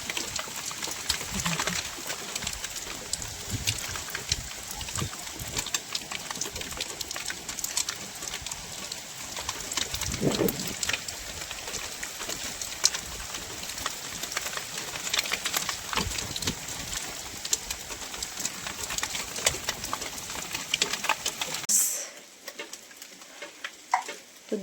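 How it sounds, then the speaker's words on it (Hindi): Heavy rain with small hailstones falling, a dense continuous hiss and patter full of sharp ticks, steady throughout until it cuts away near the end. "इतनी तेज़ बारिश हो रही है और छोटे छोटे ये ओले भी पड़ रहे हैं।"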